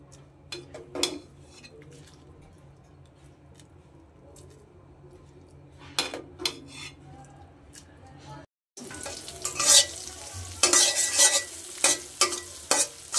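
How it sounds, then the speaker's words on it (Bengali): Egg frying in a pan as part of a home-cooked noodle dish, with scattered scraping and stirring clicks at first, then a sudden loud burst of sizzling and spatula scraping that continues strongly, close by. "ডিম ভাজছি"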